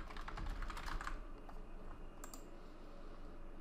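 Quick keystrokes clatter on a computer keyboard in a burst of close, faint typing, then a few scattered clicks as the typing trails off.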